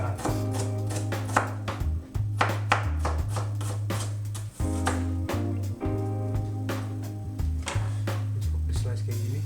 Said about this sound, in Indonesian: Ini bawang bombay ini cukup di slice karena biar nggak banyak kerjaan